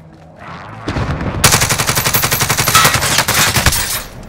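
Rapid automatic gunfire in a Call of Duty match, a long run of evenly spaced loud shots that starts after a quiet lead-in and keeps going to the end.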